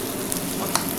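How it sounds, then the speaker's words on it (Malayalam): A spoon stirs crushed potato mixed with fried onions in a pan over steady, close frying sizzle, with a few faint scrapes and taps, no voices. "ഇതിനെ ഫ്രൈ ആയ ഓണിയൻസ് ആയിട്ട് കുറച്ച് മിക്സ് ചെയ്യുക"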